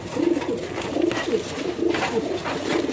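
Pigeons pairing up in a loft coo repeatedly in soft, low, rolling calls, close by, with several birds overlapping.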